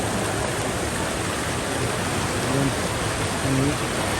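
A steady wash of water runs through a canal in a flooded neighborhood, a close, constant rushing hiss. Faint tonal sounds break through twice near the end.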